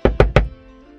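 Three quick, loud knocks land on a car door, evenly spaced and close, followed by a short fading resonance.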